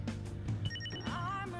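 A phone text-message alert in the video game Persona 5 Royal: a brief, quiet run of bright electronic chime tones over soft game background sound.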